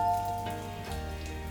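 A bitter gourd chop fries in hot oil, giving a short, soft, steady sizzle with faint crackles and no voices.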